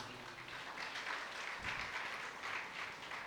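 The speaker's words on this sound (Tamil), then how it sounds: "கைத்தட்டுங்க ஒரு வாட்டி நல்லா." A church congregation claps together at a Mass, a steady, dense patter of many hands in a reverberant hall, moderately loud and continuous, with no talking over it.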